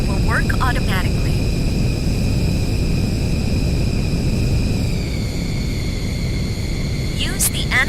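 Steady, loud aircraft engine drone in the flight game Aerowings 2 just after takeoff, a continuous roar with a high whine on top. A voice talks briefly over the start and the end.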